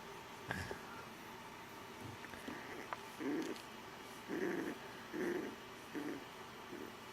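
Puppies growl and whimper up close in a quiet room, giving several short, soft low rumbles spaced about a second apart after a few faint squeaks.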